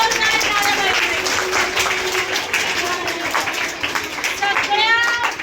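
An audience at a Marathi Language Day quiz for teachers gives a round of clapping, a loose patter of hands that rises and falls beneath a speaker's amplified voice talking throughout.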